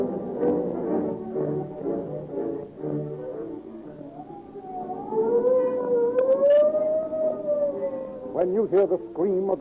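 Wailing police car siren effect from an old-time radio crime drama, starting after several seconds of muffled talk, then rising and falling loudly with a long sweeping howl that swells and warbles near the end.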